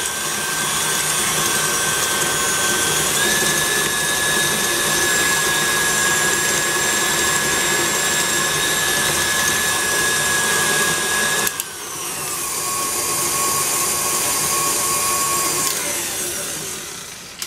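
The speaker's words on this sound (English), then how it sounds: "here I have white sugar and brown sugar. And we're going to cream these sugars together." An electric mixer creams white and brown sugar together in a bowl for red velvet cookies, a loud steady whine running without pause, with one short drop in pitch near the end and no talking.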